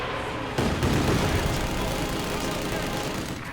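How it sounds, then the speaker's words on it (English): Rocket artillery in Company of Heroes 2 fires as a dense, loud rumbling barrage of overlapping blasts, starting abruptly and sustained throughout. "More rockets going down."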